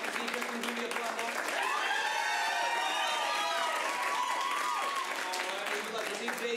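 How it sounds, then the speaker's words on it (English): An improv comedy audience applauds and cheers in a vote for one performer's movie, a steady dense wash of clapping with whoops and shouts rising through the middle, close and loud. "If you'd like to see Kristen's movie, applaud now."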